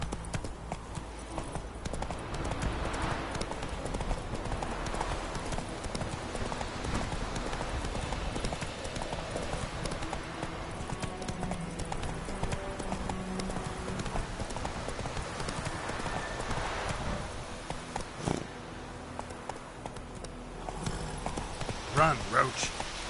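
Hoofbeats from a galloping horse in The Witcher 3 form a fast, steady clip-clop that runs throughout. A voice speaks over it, with game sounds filling the background.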